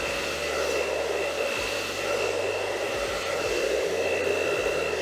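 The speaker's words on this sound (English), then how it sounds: "You'll hold the blow dryer with the left hand." A blow dryer runs continuously during a haircut, a steady loud whirring hiss with a constant tone and slight shifts in its low hum, with no voices.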